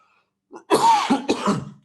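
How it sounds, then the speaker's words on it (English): A couple of harsh, close coughs in quick succession, loud and breathy, with a brief pause between bursts. "I'm sorry for coughing."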